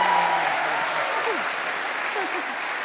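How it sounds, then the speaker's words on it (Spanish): A congregation claps in a Catholic church gathering, a steady full wash of applause heard close, while a voice speaks faintly over it. "¡Un aplauso, por favor!"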